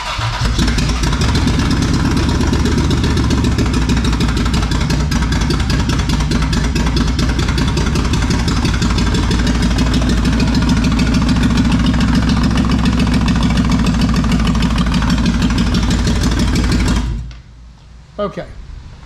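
A Toyota 4Runner's 3VZ-E engine runs with a dead misfire, a loud, close, steady mechanical drone with a rough, uneven pulse for about seventeen seconds before it cuts off abruptly, leaving faint clatter.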